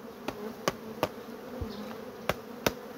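Honey bees drone steadily around the hives as honey frames are pulled out, a continuous buzzing hum broken by several sharp knocks and taps from handling the wooden frames, with no talk.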